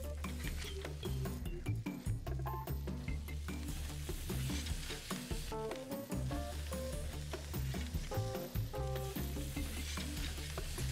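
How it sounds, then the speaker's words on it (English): Prime rib steaks sizzling over a wood fire on a Kalamazoo Gaucho grill. A steady, crackling sizzle is accompanied by occasional metallic clinks of tongs and grate. "The last step is to grill these over a wood fire so you get extra smoke, extra crust"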